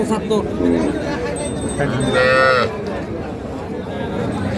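A local-breed dairy cow lows once, loud and drawn out, at a busy village cattle market, amid a background of people talking and general crowd noise.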